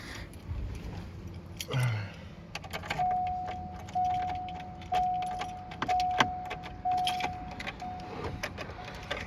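Keys jangle faintly and intermittently in the ignition of a Subaru Forester while a steady electronic chime repeats in the cabin, with small clicks and rustles close by.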